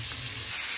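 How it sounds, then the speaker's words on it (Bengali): A brief, steady sizzle of bitter gourd frying in hot oil over a high flame, close by. "ফ্লেমটাকে হাই রেখে কিন্তু আমি এভাবে ভেজে যাচ্ছি"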